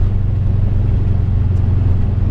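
A modified Subaru Forester with about 500 bhp and four-wheel drive drones along in a steady, heavy low rumble heard from inside the car, loud and even without clear revving.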